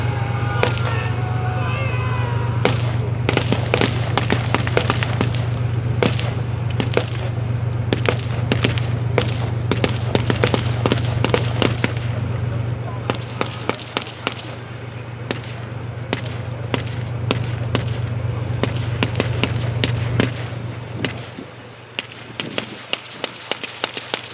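A British Army tank demo at Tankfest 2024, with a Challenger 2 firing its coaxial machine gun and L30 120mm cannon: sharp bangs and rapid bursts of gunfire over a steady engine rumble, loud and continuous.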